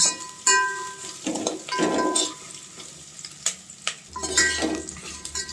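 Bay leaf and whole spices fry in oil on a low flame for vegetable biryani, an ongoing sizzle broken by repeated spoon scrapes and metallic clinks against the pot, close up.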